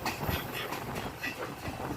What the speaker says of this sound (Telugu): అంతగానో ఊపుతుంది ట్రైన్.